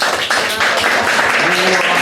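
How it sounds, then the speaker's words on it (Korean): An audience at a youth church service claps briefly, a dense patter of applause lasting about two seconds with no voices above it. "자, 그러면 우리 전달해줄 때 여러분 큰 박수로 격려해 주시기 바랍니다."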